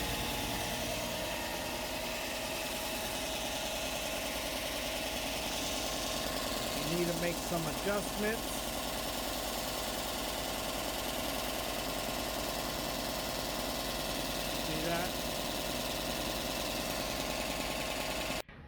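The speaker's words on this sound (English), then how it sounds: "when you turn on this tool, your belt sander and your 6-inch disc will be spinning at the same time." A WEN benchtop combination sander with a belt and a 6-inch disc spinning together runs as a steady, fairly quiet motor hum with a constant whirring drone, while a person talks briefly over it.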